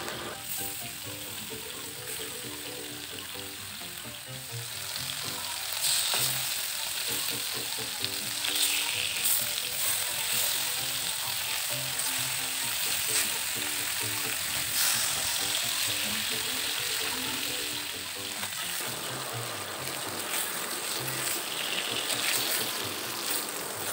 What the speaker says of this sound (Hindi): देखु केते कम तेल रे मु सबुतिक माछ फ्राए कर नेली